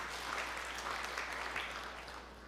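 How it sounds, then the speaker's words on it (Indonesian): Soft, sustained applause from a church congregation during a sermon, a continuous wash of many hands clapping heard from a distance over a low steady hum. "Berikan tepuk tangan yang meriah buat Tuhan"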